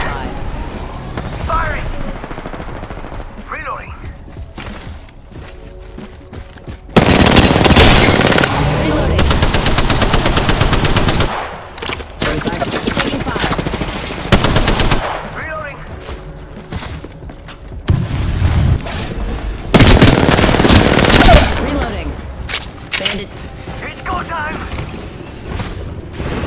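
Bursts of rapid automatic gunfire from an Apex Legends-style match played as Valkyrie on PS5, loud and sustained in two long volleys with scattered single shots and game effects between, while players call out over comms.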